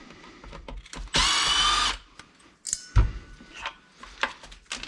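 A power driver whirs in one short, loud burst backing out 2 mm button head screws on a Losi DBXL 2 RC buggy, surrounded by quiet handling clicks and taps.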